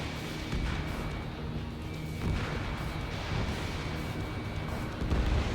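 An explosion as a target is destroyed in Ace Combat 7, a dense rumbling roar of blasts that swells in loudness over continuous jet and engine noise.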